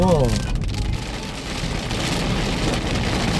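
Heavy rain from a typhoon, with large raindrops, hisses steadily on surfaces in a dense, continuous wash, with a brief voice near the start.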